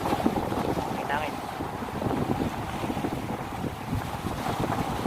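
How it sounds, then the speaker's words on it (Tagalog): Strong wind buffets the microphone at the Mina breakwater fishing spot in Abu Dhabi, a steady rumbling roar with sea and surf noise behind it, continuous throughout. "Hangin-hangin."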